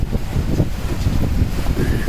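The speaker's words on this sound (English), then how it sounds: "11 knots of wind and dancing with waves" Wind rushes steadily over a sailboat riding 11-knot breezes through choppy waves on open sea, a constant buffeting roar with low, rolling surges and no voices.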